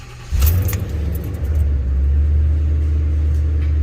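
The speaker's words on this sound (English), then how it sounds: "Gas pedal to the floor before you even try to just start it. Turn the key." A flooded car engine, cranked with the gas pedal floored, catches with a loud rev, then settles into a steady, rumbling idle close by, with keys jingling faintly.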